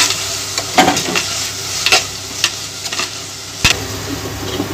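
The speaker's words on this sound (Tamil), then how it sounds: "நல்லா வதக்கணும்." Tomatoes with salt being sautéed in a pan, a steady soft sizzle broken by scraping stirs about once a second and one sharp clack near the end, with no voices.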